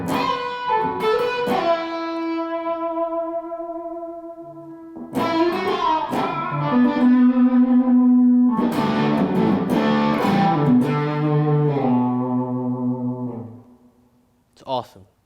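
An electric guitar played through heavy reverb rings out in sustained single notes and chords, each one blooming and trailing off in long washy tails, with a brief pluck near the end.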